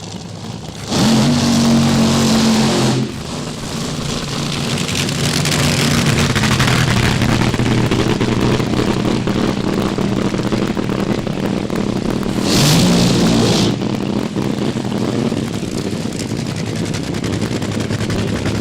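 A nitro-burning AA fuel dragster with a 498 cubic inch Hemi at a drag strip, its engine roaring loud and near with crackling, gunfire-like blasts that swell in two bursts over a sustained rumble.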